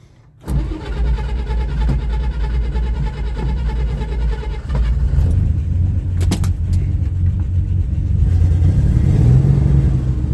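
A Corvair Rampside engine cranks, catches and settles into a loud, rough running drone close by, then rises in pitch and loudness as it is revved over about ten seconds, with no talk.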